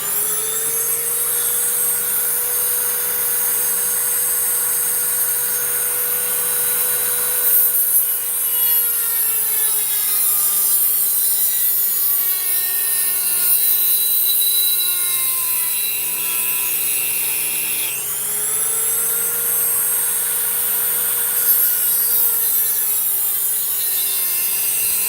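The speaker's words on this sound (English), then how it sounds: "Give you guys a view of what's it like to Live carve a walnut." A walnut is carved by hand against a loud, steady motorized whine with shifting tones, likely a rotary carving tool, running close and continuous throughout with no talk.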